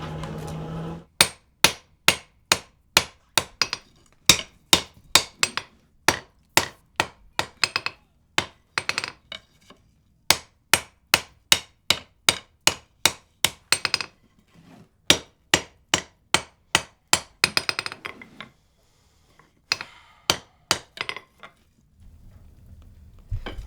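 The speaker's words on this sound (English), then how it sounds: "you can work it all the way down to a black heat for smoothing the surface, or what is referred to as planishing the surface" A hammer planishes a hot-forged wrought iron froe, ringing out in steady, evenly spaced sharp strikes over about twenty seconds with a few short pauses, close and clear.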